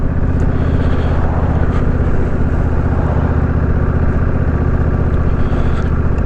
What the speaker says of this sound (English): I'm just putting around in fourth gear doing 25 miles an hour